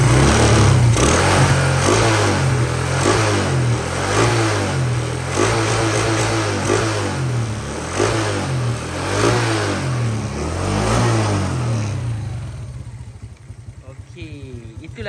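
A Honda EX5 motorcycle engine revs up and down repeatedly, loud and close, then settles toward idle near the end. Someone talks over the engine.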